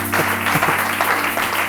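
A church congregation claps together during a sermon on offering, a loud, steady burst of applause filling the whole short moment.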